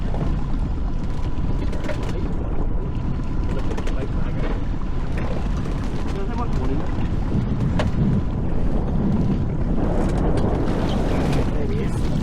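Strong wind buffets the microphone on a fishing boat at sea under a cloudy sky, a constant loud roaring rush with the boat's low rumble beneath and faint voices mixed in.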